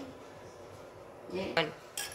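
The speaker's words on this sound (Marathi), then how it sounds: "आता मी हे इडली पात्र ठेवते, यामध्ये मी ढोकळे लावते" A metal idli steamer pot is set down on the stove for steaming bhagar dhokla, giving a couple of close clanks and a scrape after a quiet stretch of low kitchen background.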